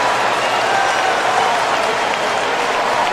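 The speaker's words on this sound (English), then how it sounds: "The crowd reacted to the replay" A stadium crowd at a college football game roars and applauds after a replayed catch, a dense, sustained wash of cheering and clapping that holds steady and loud throughout, with no clear voices standing out.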